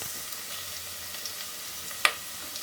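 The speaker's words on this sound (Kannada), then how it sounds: "ಈರುಳ್ಳಿ ಸ್ವಲ್ಪ ಫ್ರೈ ಆಗಲಿ" Finely chopped onion fries in a pan with a faint, steady sizzle and one sharp utensil tap near the end.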